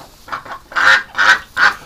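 Ducks from a large flock quack loudly and close by, with three harsh, honking calls in a steady rhythm during a snowy handling effort, with no voices over them.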